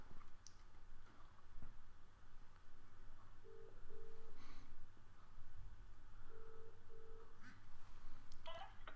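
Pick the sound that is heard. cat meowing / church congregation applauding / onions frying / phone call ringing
phone call ringing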